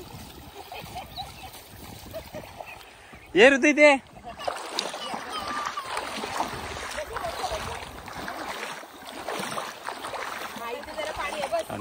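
People splash water on one another while swimming in clear, cool water, making uneven watery slaps and sloshes. Voices chatter over it, with one short loud vocal burst near the middle.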